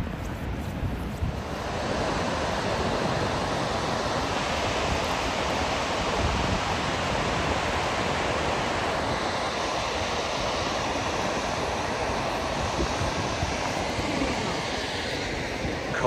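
Gullfoss waterfall on Iceland's Golden Circle, a powerful constant roar of plunging water mixed with wind buffeting the microphone, loud and unbroken throughout.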